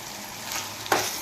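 Green masala paste frying in a pan for a tamarind fish curry with raw mango, giving a soft steady sizzle with a brief stirring scrape near the end, close and alone.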